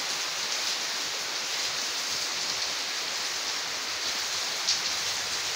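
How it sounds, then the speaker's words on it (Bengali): Heavy rain falls in a steady, dense hiss that stays even and fairly loud throughout, with no voices. "অনেক বৃষ্টি হচ্ছে।"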